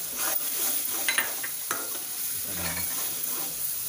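Spices such as turmeric and coriander stirred and roasted in a pan while making stuffed capsicum, a steady close sizzle with scraping stir strokes throughout, no voices.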